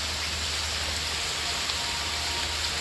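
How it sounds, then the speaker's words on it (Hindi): Monsoon rain falls steadily outdoors, a dense, even hiss of drops on surfaces that stays constant and fairly loud throughout with no voices. "यहाँ पे बारिश हो रही है जैसे कि आप से देख सकते हैं"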